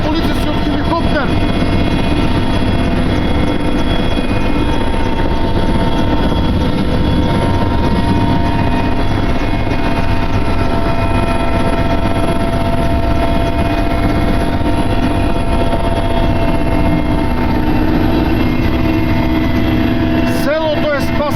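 A police helicopter flies over the fire-threatened village of Dupjani near Kičevo during a rescue, its rotor and engine a loud, steady drone that holds without a break.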